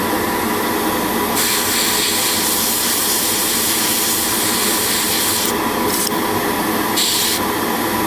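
An airbrush sprays paint onto a part of a Gundam model kit, a loud, steady close-up hiss with brief bursts of brighter spray as the trigger is pressed, and no voices.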